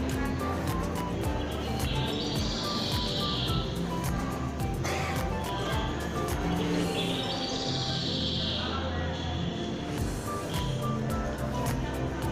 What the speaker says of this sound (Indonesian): banyak suara burung seperti yang didengar ini